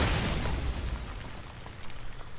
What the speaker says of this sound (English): I do like the exploding effects